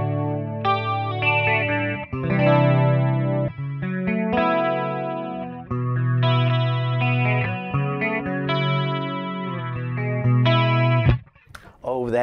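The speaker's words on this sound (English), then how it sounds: "The first preset you come to is the jazz chorus clean" A 1996 Line6 Axsys212 modeling amp on its jazz chorus clean preset plays shimmering chorused electric guitar chords and notes for several seconds, steady and close, ending in a brief burst of noise.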